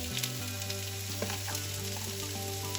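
Chopped onion sizzles in hot oil with curry leaves in a pan for fish molly, a steady close crackling fry with light stirring scrapes and no voices.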